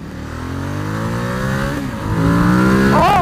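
A 2019 Ducati XDiavel S motorcycle engine revs up hard under acceleration, its rising harmonic tone climbing through gear changes, loud and close with no talking.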